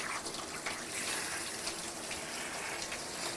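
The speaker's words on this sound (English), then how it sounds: "Now I've rinsed quite a bit" Steady running water splashes in a bathtub while a special-needs dog is rinsed, a continuous close gush of tap flow with no talk over it.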